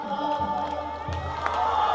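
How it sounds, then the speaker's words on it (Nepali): Audience applause for donors at a Navadurga temple Devi Bhagavat Mahapuran gathering in Nayagaun, Butwal: dense, steady clapping mixed with crowd noise that fills the whole moment at close range. "जोर ताल ताली बजाएर सम्मान गरौँ"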